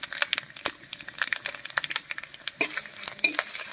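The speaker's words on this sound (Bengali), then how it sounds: "ফোড়নটা ভাজা হয়ে গেছে" Whole spices tempering in hot oil for jhinge dal, with dry chillies, bay leaf and panch phoron crackling and popping close up in quick, busy bursts of sizzle and spatter; no voices.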